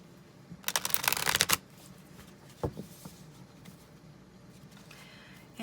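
Tarot cards being shuffled in a loud, rapid riffling burst lasting under a second, then quieter scattered card taps and slides in a calm room.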